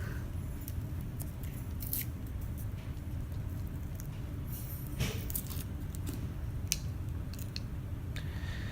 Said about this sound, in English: Take your assembly and take apart the tape.